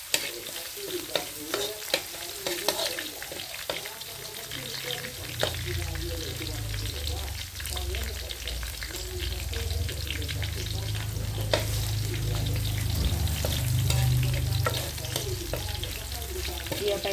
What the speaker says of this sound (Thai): เจียวให้หอมนะคะ